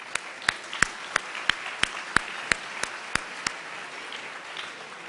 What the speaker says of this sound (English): So let's give them some applause as well.